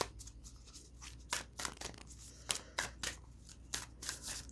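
Moonology oracle cards are shuffled and drawn by hand, giving a series of quick, close, crisp riffling flicks and snaps in irregular bursts against a quiet room.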